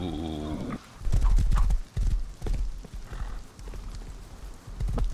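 A horse whinnies briefly in a video game jousting tournament, then hooves clip-clop in an uneven trot, close and fairly loud, with a few scattered thuds between steps.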